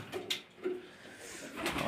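Pigeons cooing nearby in soft, repeated throaty calls, with quiet pauses between.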